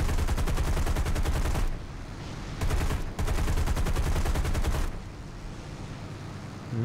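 Anti-aircraft flak guns in War Thunder fire in rapid, loud bursts: a long stream of shots, a short pause, then two more sustained volleys before the firing stops. No voices are heard.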